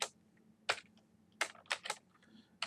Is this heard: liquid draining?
no